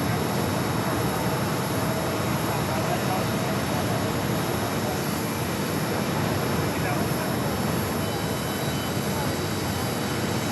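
A Contour Aviation airliner arriving on the north side ramp at Phoenix Sky Harbor produces a continuous, loud, broadband engine roar that stays steady throughout, with a faint high whine above it.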